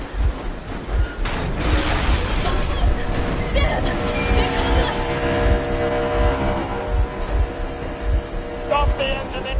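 A vehicle engine runs with a steady low hum and rumble in the video game Metro Exodus, loud and continuous, with game sounds and voices layered over it.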